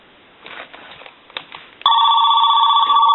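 Mickey Mouse 210 Trim Line telephone on its medium ringer setting starts a loud, continuous bell ring about two seconds in, right after a click and some handling noise, and the ring holds steady to the end.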